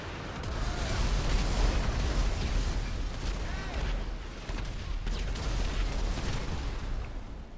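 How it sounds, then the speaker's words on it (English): Airstrike bombs go off in a long, dense barrage of deep rumbling blasts that roll together with almost no break, loud and continuous and reverberant, with a few sharper cracks on top. "Target acquired. Bombs incoming."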